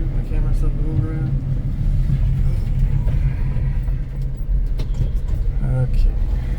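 A 1994 Honda Acty mini dump truck drives in fourth gear, its engine holding a steady, close low drone throughout while someone talks over it.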